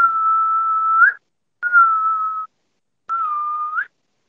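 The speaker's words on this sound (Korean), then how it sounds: "휘파람 불어주세요" Three sustained whistled tones from a person, each about a second long with a short upward flick at the end, separated by brief pauses, close and clear with no talking.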